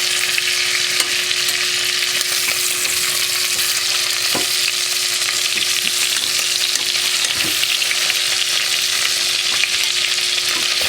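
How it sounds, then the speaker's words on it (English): Beef short ribs sear loudly in an Instant Pot, a dense, steady sizzle with occasional knocks as the pieces are turned. "we're ready to flip our short ribs over and sear the other side"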